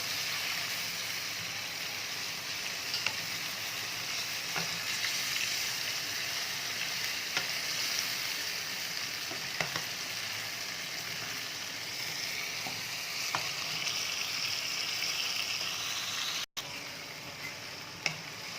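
Chicken karahi with green chilies, salt and black pepper sizzles steadily in a pan while being stirred, a continuous frying hiss with occasional soft scrapes and clinks, close and moderately loud with no talking.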